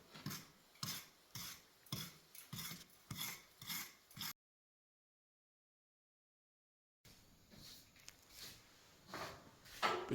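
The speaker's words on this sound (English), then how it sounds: "Bit of sanding going on here." A wall being sanded by hand in a kitchen under renovation gives rhythmic rasping strokes in bursts, a few seconds of silence, then more scraping.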